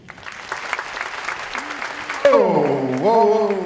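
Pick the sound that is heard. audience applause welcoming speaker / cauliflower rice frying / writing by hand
audience applause welcoming speaker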